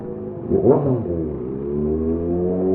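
A car engine revs up sharply in a crowded street at a Christmas village in Calasiao, Pangasinan, then settles into a steady, close idle drone amid traffic noise.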